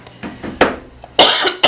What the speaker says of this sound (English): before I start coughing